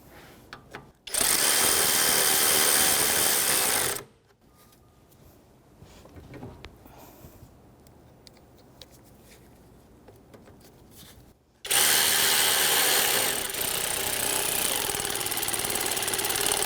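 A power driver with a 10mm socket driving self-tapping screws on a Nissan Frontier AC condenser, two loud, sustained buzzing runs of a few seconds each with a quieter pause of handling noise between them.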